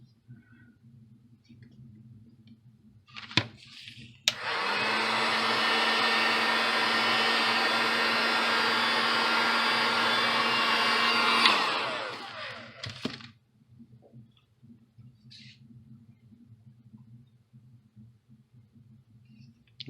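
A heat gun warms scored craft foam for a batarang prop, a steady loud blowing whir that starts abruptly, runs about seven seconds and winds down, framed by a few light clicks and thumps.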